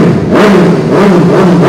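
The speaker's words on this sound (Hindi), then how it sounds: "एग्जॉस्ट लगा हुआ है साहिल भाई, कॉपी नहीं लगा हुआ, लाउड सुनाते हैं, आओ चला दूं।" A loud superbike exhaust roars and revs up close, the engine pitch rising and falling in quick surges.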